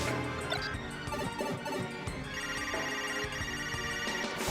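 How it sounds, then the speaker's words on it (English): A bright bell rings repeatedly amid clattering hits and whacks, with ringing tones layered over busy game-like action in Super Smash Bros. Brawl. "I love ringing the bell."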